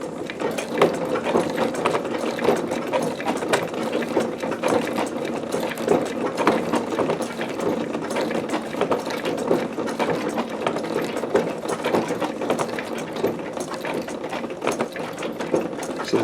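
A Techsew 611 walking foot industrial sewing machine driven by a Consew servo motor stitches steadily, its dense mechanical clatter running continuously and close at an even, rapid pace with no talking.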